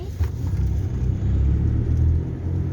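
A car drives home from Khlong Thom market in Bangkok, a steady low engine rumble and road hum heard from inside, continuous with no talking.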